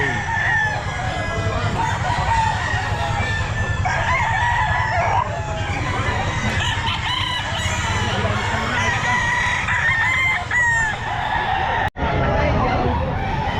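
Roosters and hens at a crowded Philippine pet market, with repeated crowing and clucking from several birds over a steady din of voices and market noise.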